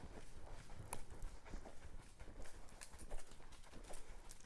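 A ridden horse's hooves clip-clop in an extended trot, a steady two-beat rhythm on soft ground, faint and somewhat distant, with no speech.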